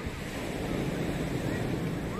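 Waves on the Black Sea after a storm, in Adler near the Abkhazian border, roar in a steady broadband wash with wind buffeting the microphone throughout.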